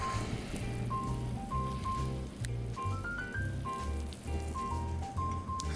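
Butter and olive oil sizzle in a hot pan, a steady crackling hiss under light background music.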